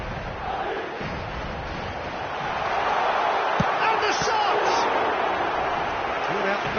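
A stadium crowd in an eFootball match, a broad roar swelling louder midway and holding, with a commentator talking over it.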